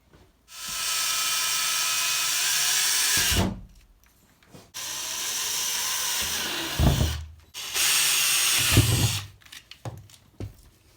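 A power drill whirs in three long sustained bursts, driving screws into a wooden 2x4 to mount a glass shower door, each ending with a clunk and brief pause, close and loud.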